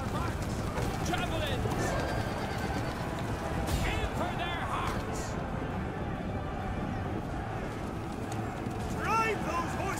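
Cavalry horses gallop across a battlefield in Thrones of Britannia: continuous pounding hooves with an occasional whinny, under loud shouted battle commands and other voices.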